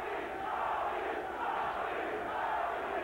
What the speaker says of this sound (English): The crowd cheering, chanting, Tony, Tony, Tony, trying to get him fired up